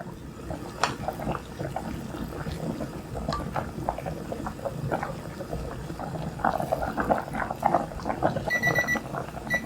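Thick pork pieces boiling in a pot: busy, irregular bubbling and popping that carries on steadily and grows a little livelier toward the end.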